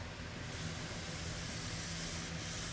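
A Festool sander works over a stripped table veneer, making a constant, even hiss and rushing drone that carries on steadily for a few seconds with no talk.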